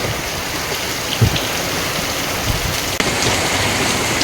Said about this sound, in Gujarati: અને આ બાજુ નીચા અંધાધાર વરસાદ પડે છે અને બહુ જોરદાર વરસાદ થઈ ગયો છે.